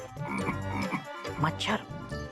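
Frog croaking in a children's animal cartoon, a run of throaty, rhythmic croaks with a musical backdrop, fairly close and steady, with no speech.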